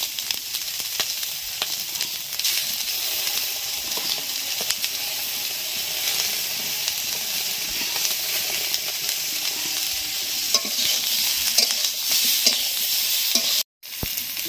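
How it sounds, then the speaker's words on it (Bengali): Cauliflower florets and potato pieces tumble into a hot pan for a winter fish curry with khalse fish, giving a steady, close frying sizzle with light stirring scrapes throughout, briefly cut off near the end. "এবারে ফুলকপি আর আলুগুলো ঢেলে দেবো।"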